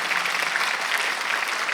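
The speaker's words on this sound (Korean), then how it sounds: "박수 한번 하세요." A church congregation at Sunday worship claps together, a brief burst of crowded, even applause that stays dense and fairly close throughout.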